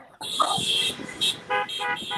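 Car horns toot repeatedly during a live Fourth of July birthday caravan drive-by, several overlapping honks of varying length over road noise, with no talk.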